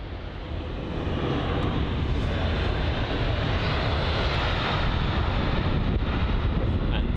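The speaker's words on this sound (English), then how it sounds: "The Emirates Boeing 777 Sky Cargo on departure." An Emirates Boeing 777 SkyCargo takes off from London Heathrow with a loud, steady jet engine roar and wind rumble that builds slightly and then holds.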